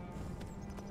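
Horse hooves clopping as a rider travels in the video game Skyrim, a quick soft rhythmic patter of footfalls in one brief burst.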